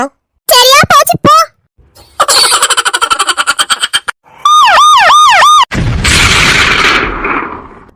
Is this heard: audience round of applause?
no